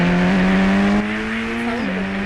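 A Swift car driven in the mobile game Indian Bike Driving 3D hums with a steady synthetic engine tone that rises slightly, then drops as the pitch shifts, loud and close with no voices.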